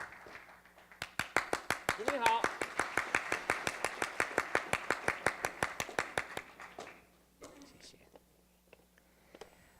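Audience applause at a land policy forum: steady, rhythmic clapping with sharp, evenly spaced claps building and holding for several seconds, then fading into quieter scattered claps with murmuring voices.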